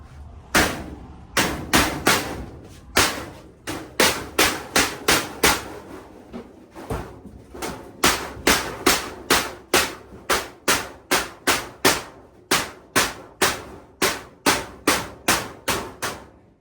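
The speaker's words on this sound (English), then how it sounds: "I just hit this with my needle nose, but really you're supposed to hit it with a hammer." Sheet metal of an HVAC supply plenum struck repeatedly with needle nose pliers, producing a long run of sharp, ringing metallic taps in quick rhythmic bursts, close and loud with no talking.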